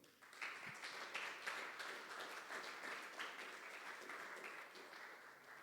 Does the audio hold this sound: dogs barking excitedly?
no